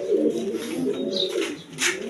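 Pigeons kept for sale, including birds with eggs and chicks, coo steadily in a low, soft murmur that runs throughout, with a few brighter chirps rising above it at close range.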